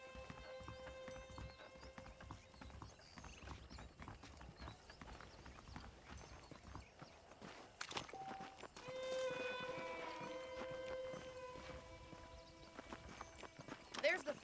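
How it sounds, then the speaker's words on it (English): Horse hooves clip-clop steadily in the Western video game Red Dead Redemption, set near saddled horses, running under a dialogue voice, with a louder passage partway through. "The horses are saddled up over here."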